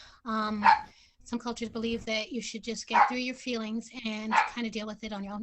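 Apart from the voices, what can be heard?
dog barking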